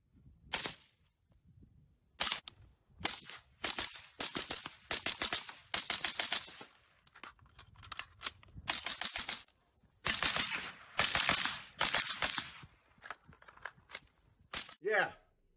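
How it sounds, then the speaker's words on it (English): Rapid bursts of gunfire from a played clip of street shooting, sharp close cracks fired in quick strings and volleys with short pauses between them; no talking. "Ain't nobody shooting like that."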